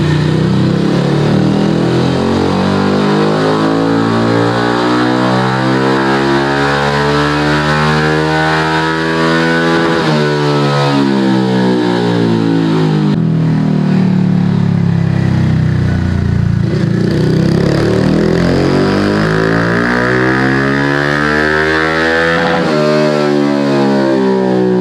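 A 2022 Honda Grom motorcycle fitted with a DHM 149cc big bore kit revs hard on a dyno, its loud, buzzing engine climbing and falling in long sweeps with no talk over it.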